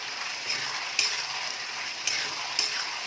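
Fried chicken pieces are stirred into Manchurian sauce in a hot pan, giving a steady close sizzle broken by a few sharp spatula scrapes against the pan.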